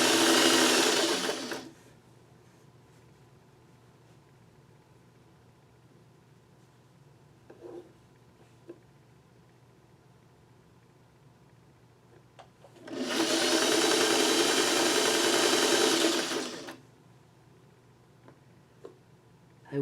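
Sewing machine stitching at regular speed, two bursts of steady whirring, one brief at the start and a longer run of about four seconds later, separated by quiet pauses with faint clicks.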